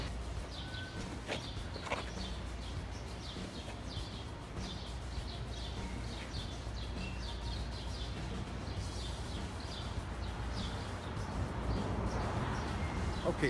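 Outdoor birds chirp continually in the background, with small repeated tweets spread across the whole stretch over a steady, fairly loud ambient hum, fairly distant and without talk.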